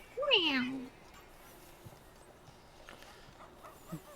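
A kitten gives one clear, fairly close meow near the start, then the room goes quiet, with faint background noise and a brief soft sound at the end.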